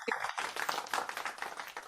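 A small studio audience claps after a live song, a brief, sparse patter of hands with a short voice at the very start.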